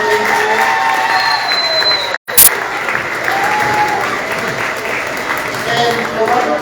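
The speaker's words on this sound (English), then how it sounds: "I want us to give Ms. Sabatier and Mr. Hoffman another round of applause." Applause and cheering from an audience at a high school award ceremony, steady loud clapping with scattered shouts, briefly cut by a short dropout partway through.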